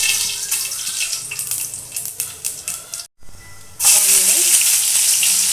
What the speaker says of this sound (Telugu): ఇప్పుడు పోపు దినుసులు వేసుకుందాము.